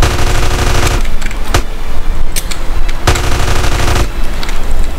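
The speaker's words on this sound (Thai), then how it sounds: "ลองนั่งยองแล้วยิงรัวๆ" Rapid gunfire in GTA San Andreas: loud, continuous automatic shooting with sharp cracks standing out, sustained through the whole clip with brief dips between bursts.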